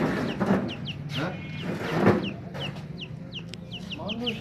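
Chickens at a market cluck repeatedly in short, quick bursts, with several birds calling at close range; people talk at times beneath the clucking.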